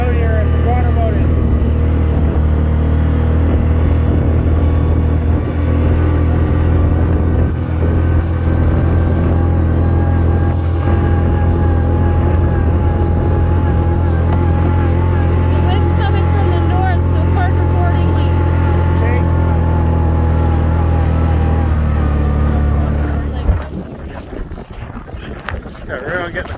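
A quad (ATV) engine revving hard while being freed from snow during a blizzard, a loud sustained roar with wind noise that cuts off near the end, leaving quieter rustling.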